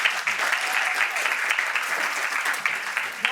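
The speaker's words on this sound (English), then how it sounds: "Give them a round of applause." An audience claps for speakers at a start-up event, a dense, steady wash of applause that holds at an even level for a few seconds with no break.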